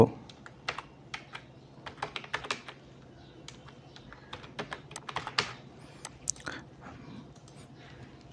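Fingers type a name on a computer keyboard, producing irregular bursts of soft, close key clicks with short pauses between them in a quiet room.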